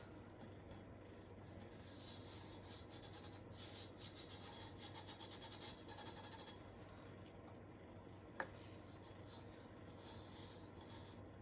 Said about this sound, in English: Make sure you rub it in really good.